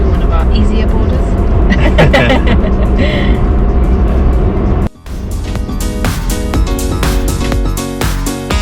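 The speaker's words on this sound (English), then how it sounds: "We are driving on the snow." Car driving on a snowy road at about minus two degrees, with steady loud engine and road rumble from inside the cabin and people talking over it throughout.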